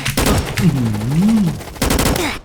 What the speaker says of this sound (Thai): เลมอนมาสเตอร์ ยิงผมทำไม